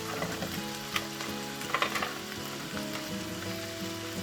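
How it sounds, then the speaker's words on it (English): Onions hit a hot pan for a chicken almond dish and sizzle loudly and continuously, a dense crackling fry with a few brief stirring bumps and no voices. "I'm going to add the onions"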